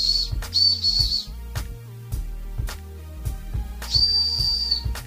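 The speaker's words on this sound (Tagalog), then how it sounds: "Ito naman, whistle." A shrill whistle is blown in several short, piercing blasts close by, with rhythmic low thumps and clatter in the background.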